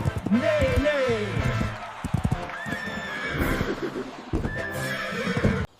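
Cartoon horses in a silly animated animal parade for kids neigh and whinny loudly several times, with clip-clopping hooves and bouncy background sounds throughout.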